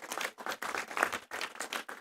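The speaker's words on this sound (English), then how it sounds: "So you can clap because you are part of this." A graduation ceremony audience claps in a packed hall, with dense, steady applause carrying through several bursts that swell and dip without any voices over it.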